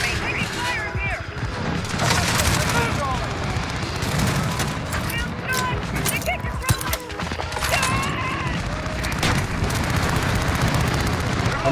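Dense, continuous gunfire and explosions in a Call of Duty Modern Warfare multiplayer match with an MP5, rapid bursts layered over game effects and talk throughout.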